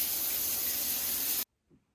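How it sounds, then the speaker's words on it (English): Shower water running hard as it gets going, a steady loud broadband spray that cuts off abruptly after about a second and a half, followed by a brief faint thud. "Now let's get a shower going."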